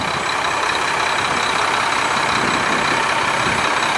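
A 2010 Mack Pinnacle CHU613 truck with a Mack MP8 485 horsepower diesel engine idling, a loud, steady, close rumble with no change in pitch from start to end.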